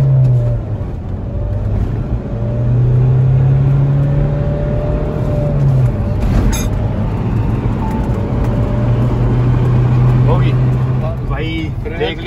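A Mahindra Thar diesel with manual gearbox accelerates hard from standstill toward 100 km/h, its engine droning loud and close and rising in pitch through several gear changes, with a voice talking over it.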